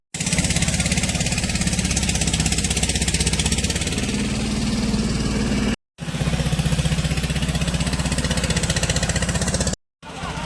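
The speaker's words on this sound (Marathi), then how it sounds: "मागे आहे ना ट्रॅक्टर फिरतंय" A tractor engine drones steadily and loudly nearby while working a flooded rice field during transplanting, a continuous chugging rumble that cuts out briefly twice.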